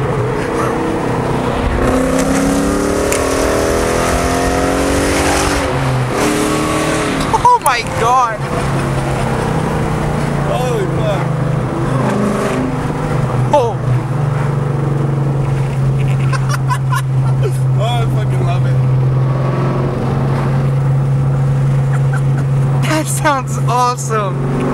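A Ford Mustang 5.0 V8 with loud exhaust revs hard up close, its droning roar rising and falling through the run, while people talk excitedly over it.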